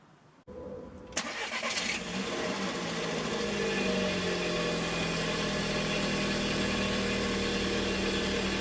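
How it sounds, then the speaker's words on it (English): A car engine cranks and catches, then settles into a steady, close idle hum that continues evenly to the end. "we're going to be rolling the hard drive over using a car"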